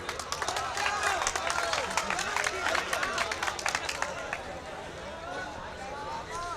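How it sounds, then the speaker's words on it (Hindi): An audience at a mushaira breaks into a burst of clapping and crowd noise that fades after a few seconds, with a voice talking over it. "तालियों से मोहतरमा एरम सुल्तानपुरी।"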